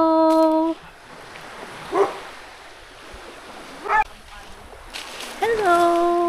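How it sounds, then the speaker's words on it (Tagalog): Big golden retrievers at the beach give a few short, sharp barks spaced apart, with splashing water and people talking and calling out around them. "kinabol ako ng mga asong malalaki. Oh my gosh, golden!"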